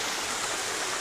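Small mini waterfall feeding a stream, a steady close hiss of rushing, splashing water with no voices over it.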